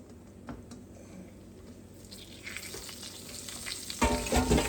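Chicken breading mixture poured into hot frying grease starts a close, loud crackling sizzle that swells after a quiet start and surges sharply near the end.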